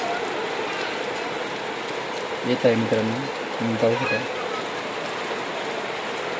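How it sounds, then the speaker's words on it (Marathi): Steady rain hisses and patters outdoors on farmland, a continuous wash of falling water, while someone speaks briefly over it. "कालपासून पाऊस सुरू झालेला आहे परत आज पण जा सुरू झालेला आहे"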